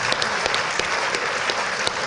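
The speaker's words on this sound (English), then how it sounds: "Please, round of applause for Will." A room of attendees at a national housing hustings applauds, producing a brisk, steady patter of many hands clapping with a few sharper individual claps standing out.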